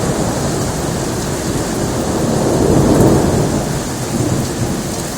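Thunder rolls through a heavy winter rainstorm in Bari, a loud, steady wash of rain with a deep rumble swelling in the middle and fading, heard alone without voices.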